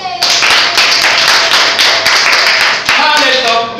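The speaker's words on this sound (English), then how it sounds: "give it wonderful applause" Schoolchildren clapping together in a nursery and primary school classroom, loud, close and continuous rhythmic claps, with a voice briefly cutting in near the end.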